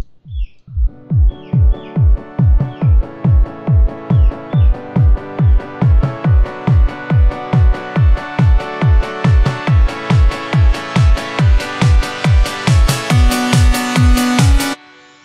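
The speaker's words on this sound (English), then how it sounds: "it sounds kind of cool because it sounds like it's coming out of a tunnel or something" Repeated synth notes in LMMS under an automated low-pass filter sweep: a steady rhythmic pulse of about thirty hits that opens from dull and muffled to bright and full, loud and alone.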